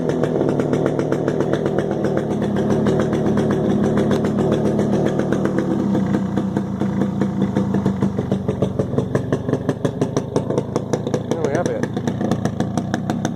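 A Yamaha RXS 100 motorcycle runs steadily after a cold kick start following three months unused, with a loud, close, rapid popping engine note and a slight bottom-end grumble.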